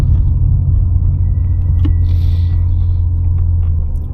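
BMW E36 M3 with a B&B Billy Boat exhaust driving, a loud, steady low exhaust rumble heard from inside the car, holding a constant drone throughout.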